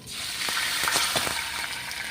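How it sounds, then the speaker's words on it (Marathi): Loud, steady sizzling hiss with a few sharp crackles and pops as water hits a hot oil tempering, close and without talk. "आता या फोडणीमध्ये आपल्याला टाकून घ्यायचं आहे पाणी"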